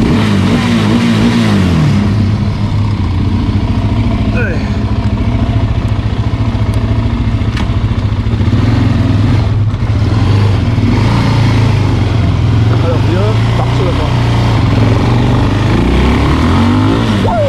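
A 2007 Suzuki LTZ 400 quad bike fitted with a new chain revs hard under throttle, a loud, close, continuous engine roar whose pitch rises and falls through the run, with no talking.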